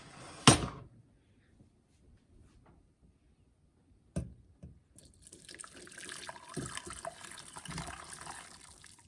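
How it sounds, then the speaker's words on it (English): Elderberry syrup with ginger splashes and trickles steadily through a fine mesh strainer into a container after a sharp clatter, a continuous pouring stream that grows fuller toward the end. "I'm gonna pour it through a fine mesh strainer"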